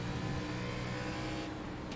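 A race car roars steadily on an Iowa oval dirt track during a winter series race, its engine a loud, continuous drone with a dense low rumble and no voices.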